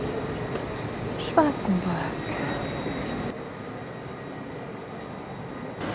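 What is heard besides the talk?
train arriving at a station in Switzerland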